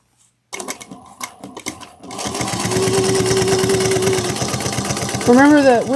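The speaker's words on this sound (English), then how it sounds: "we're going to top stitch this at 1/8 of an inch" A sewing machine top-stitches a fabric tablet clutch at an eighth of an inch. After a short silence it starts with uneven bursts, then runs at a loud, steady, close stitching pace.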